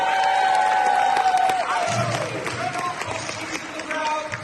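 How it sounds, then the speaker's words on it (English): A crowd at a My Hero Academia: You're Next film premiere claps and cheers loudly, a dense wash of applause with whoops, while an amplified voice carries over the start. "Give yourselves a huge round of applause."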